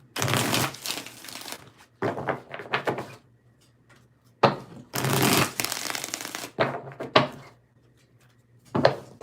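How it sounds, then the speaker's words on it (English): Tarot cards are shuffled in several separate bursts of crisp riffling and slapping, close and clear, with short quiet gaps between them. "Let's get 3 shuffles here."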